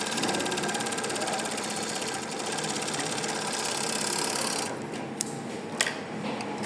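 A coverstitch machine fitted with a binder attachment runs steadily along a fabric edge, a continuous close mechanical whir that drops off near the end, followed by a few sharp clicks.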